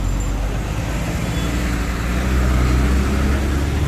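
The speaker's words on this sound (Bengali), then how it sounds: "দেখো গাড়ির কি ভিড়।" Heavy road traffic in Bangaon Motiganj town: a dense, continuous rumble of cars, buses and trucks close by, steady and loud with no gaps.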